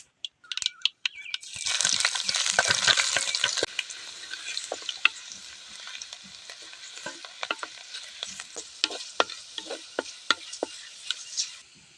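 Crushed garlic hits hot oil in a pan for an ivy gourd stir-fry and sets off a loud, close crackling sizzle, then settles into steady frying with sharp pops and stirring scrapes.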